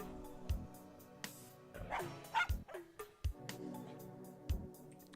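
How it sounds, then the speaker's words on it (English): A dog barks over an intercom in the video game The Journeyman Project, giving several sharp, evenly spaced barks with short yips between them against a quiet electronic background hum. "Dog barking over intercom."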